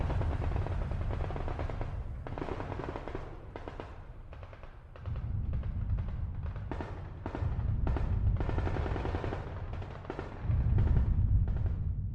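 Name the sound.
distant booms and gunfire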